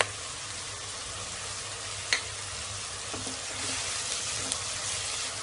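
Curry leaves and salt go into onions frying in a pan for an unripe tomato chutney, giving a steady close sizzle with a few faint stirring clicks and taps; no one speaks.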